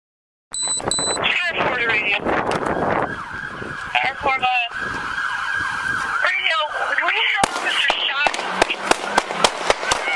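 Sharp gunshots crack out during a police shootout, a cluster of loud evenly spaced reports near the end following a stretch of rapid pops, overlapping with a wailing emergency siren and shouted voices throughout.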